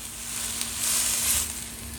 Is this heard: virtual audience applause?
no